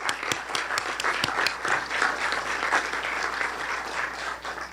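An audience at a charter school hearing breaks into steady applause, many hands clapping in a dense, sustained wash that stays fairly even for several seconds.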